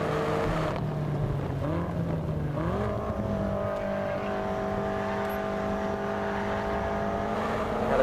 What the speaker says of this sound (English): Get the car turned in on the brakes and accelerate out the corner using all the power